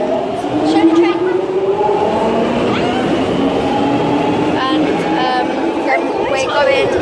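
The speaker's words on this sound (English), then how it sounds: "Show the train." A London Underground Piccadilly line train rumbles loud and steady throughout, with a rising motor whine and wheel noise on the tracks; voices chatter nearby.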